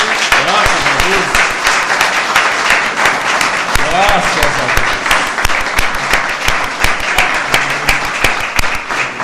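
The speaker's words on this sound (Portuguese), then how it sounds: "Vamos aplaudir ao Senhor?" Church congregation applauding, dense rapid clapping from many hands, loud and sustained throughout, with voices faintly mixed in beneath.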